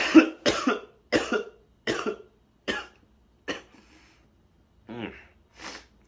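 A man coughs repeatedly while smoking pipe tobacco during a mild cold, giving about eight harsh, close bursts spaced roughly half a second to a second apart, with a brief pause in the middle.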